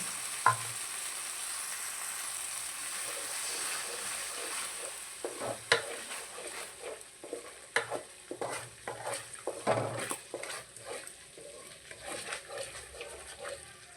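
Tamarind juice added to a puliyogare mix in a hot pan, a low background sizzle broken by scattered spoon knocks and stirring clatter, growing busier toward the end.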